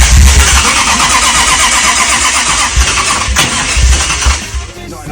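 A Jaguar gull-wing car with its fuel disconnected, its starter cranking the engine over and over without it catching: a steady, loud, rhythmic churning that carries on throughout.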